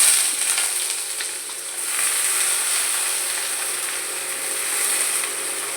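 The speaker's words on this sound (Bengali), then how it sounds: "লাউ যেটা কেটে রেখেছি ঝিরি করে, সেটা আমি দিয়ে দিচ্ছি গরম তেলে" Shredded bottle gourd sizzling in hot oil with no tempering, a loud continuous frying hiss close by that swells and eases slightly, with no voices.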